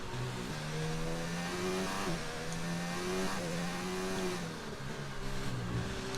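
Formula 1 race car engine in the F1 2019 video game, a steady high-pitched whine rising and falling with gear changes and throttle, loud and continuous with no talking.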